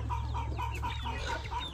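Several young backyard chickens clucking close by, a quick series of short soft clucks over a low steady hum, no voices.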